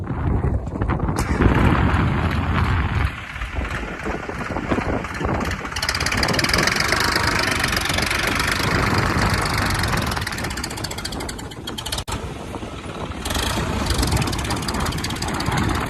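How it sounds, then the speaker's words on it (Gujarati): A Massey tractor engine runs under hydraulic load at a dealer's yard, a loud, continuous, knocking diesel drone with shifting intensity throughout. "ડાઉન કરી અને તાકાત ચેક કરવાની કોશિશ કરશું કે ટ્રેક્ટર કેવું તાકાત કરે છે"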